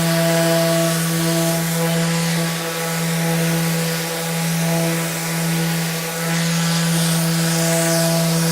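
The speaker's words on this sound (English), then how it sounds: "So now with the ETS EC 153, I can work quickly and efficiently with painted materials." A Festool ETS EC 150/3 eccentric sander works over painted material with a steady, loud motor hum and a constant abrasive hiss. The pitch sways gently as pressure changes, and nobody speaks.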